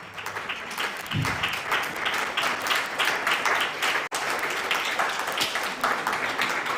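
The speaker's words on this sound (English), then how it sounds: "Ladies and gentlemen, a round of applause for Honorable Kennedy Agyapong." Sustained, full applause from a large entrepreneurship and innovation summit audience honoring a featured speaker, a thick, steady roar of clapping lasting about seven seconds with a brief dropout midway.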